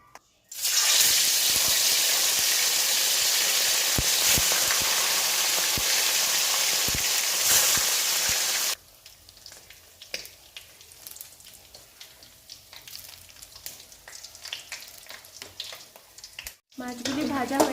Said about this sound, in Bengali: প্রথমে আমি কড়াই তেল দিয়ে মাছগুলিকে ভেজে নেব।